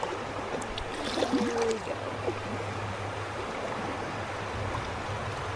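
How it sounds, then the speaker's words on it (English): Water rushes steadily around an inflatable kayak running rapids on the Toccoa River, a constant broadband wash with a low hum beneath, while someone says a few words near the start. "All right, we come into another rapid spot."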